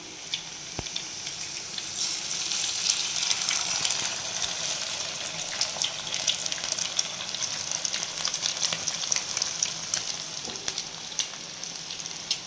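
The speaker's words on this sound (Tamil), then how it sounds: "வெங்காயம் ரோஸ்ட் ஆகிட்டதுக்கு அப்புறம் முட்டை உடச்சி போட்டுடலாம். நெக்ஸ்ட்டு முட்டை ஊற்றிக்கலாம்." Eggs frying and sizzling in a pan with roasted onions for egg bhurji (egg podimas), a steady broadband crackle with occasional stirring clicks, close and continuous.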